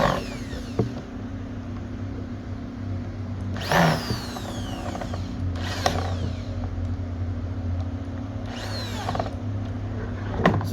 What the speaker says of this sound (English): Go through, screw them all in